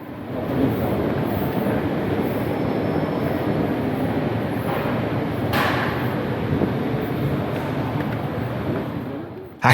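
A steady low rumble and hiss of a metro train fills São Bento station in São Paulo's subway, continuous and fairly loud, with a sharp click at the very end.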